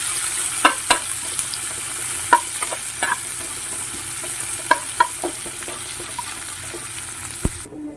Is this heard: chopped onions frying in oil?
yes